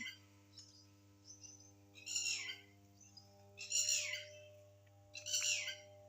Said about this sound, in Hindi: ये चिड़िया चहचहाती हुई